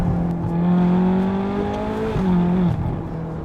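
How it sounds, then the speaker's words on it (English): A 2009 Ferrari California with a naturally aspirated V8 accelerates, its exhaust note a strong, rising drone that climbs steadily, dips briefly at a shift, then pulls again, loud and close with no talking. "the note from that exhaust, you just don't get that in modern Ferraris with turbocharging"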